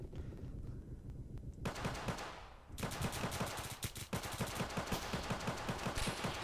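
Rapid bursts of gunfire from a gun in the Roblox shooter Oof Brigade, with sharp repeated shots in quick rhythm, a short gap, then sustained firing again, close and loud.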